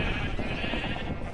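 Sheep bleating in Minecraft, a steady, fairly loud bleat that holds for just over a second with no talk over it.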